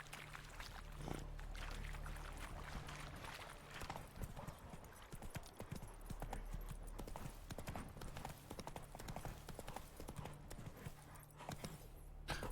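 Horse hooves clip-clop in a steady, quick rhythm on hard ground in the video game The Witcher 3: Wild Hunt, fairly close and continuous with faint background noise.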